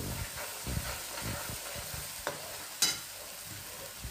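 Homemade masala and red chili powder being stirred in a pan, with a soft sizzle and scraping strokes of a spoon, plus a sharp clink partway through.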